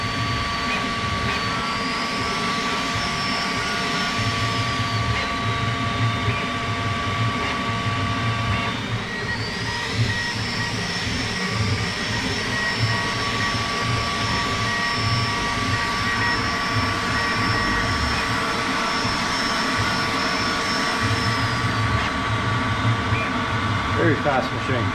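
Creality K1 Max 3D printer running a high-speed print: a loud, steady whirring of fans and motors with rising and falling stepper-motor tones, continuous and close throughout.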